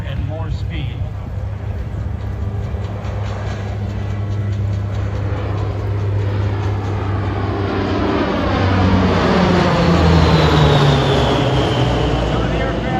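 A propeller airplane roars past at speed on a high-speed pass at an airshow, its engine drone swelling louder and sweeping down in pitch as it passes close by.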